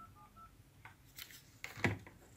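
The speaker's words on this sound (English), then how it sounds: "going to grab the tone dialer, put a number in I've got pre-programmed" A handheld tone dialer beeps out DTMF tones for a pre-programmed phone number beside a lifted telephone handset; short rapid tone bursts come close and fairly quiet, followed by a few clicks.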